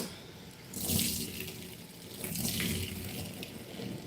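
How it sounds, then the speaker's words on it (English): Tap water runs into a sink as hands and a sponge are rinsed, two soft swells of splashing flow rising and easing, fairly quiet and close with no talking. "rinse off the old hands, rinse off the old sponge"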